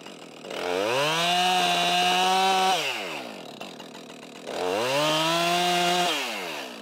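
Chainsaw running through a tree being felled in a forest stand, two long loud bursts at high revs separated by a brief lower idle, close by with no talking.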